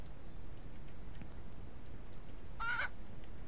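A single short cluck from a chicken in the Ranch Simulator farming game, a brief tonal call near the end of a quiet stretch of low background hum.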